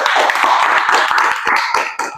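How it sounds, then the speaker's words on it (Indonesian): A small group claps at the close of a teaching presentation at a health polytechnic, distinct individual hand claps in an irregular patter, fairly near, easing off toward the end. "Tepuk tangan untuk kita semua."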